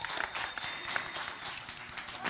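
Spelling bee crowd applauding the third place winner of an intermediate championship, a brief, fairly quiet wash of many hands clapping at a distance, steady throughout.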